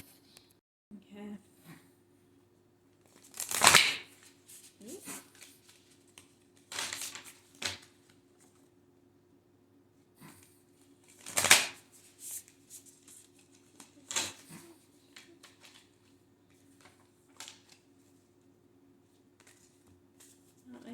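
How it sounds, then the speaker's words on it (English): A deck of tarot-style cards is shuffled in scattered bursts, each a brief riffling flutter, separated by quiet pauses over a faint steady background hum. "Not my favorite cards to shuffle."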